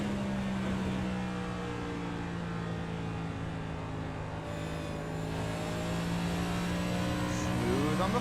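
A stock race car in iRacing at Iowa is heard onboard, its engine droning in a steady high-pitched tone held at speed, then shifting pitch near the end as the car lifts or brakes, with no talking.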